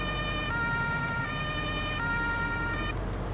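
Police city horn siren from a Farming Simulator 19 police vehicle mod, sounding as a steady, loud electronic tone that shifts pitch partway through and then drops away near the end, with no voices.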